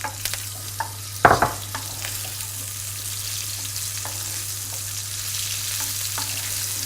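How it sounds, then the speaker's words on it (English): Dates frying in butter in a pan over medium heat, a steady close sizzle with a sharp clatter early on and a few light knocks, no voices. "And I'll just fry these dates."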